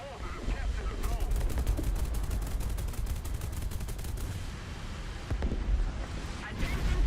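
A Me-262A-1a fighter in War Thunder strafes with rapid cannon fire, a dense, fast-pulsing burst that runs for several seconds and then returns in shorter bursts amid engine rumble and distant explosions.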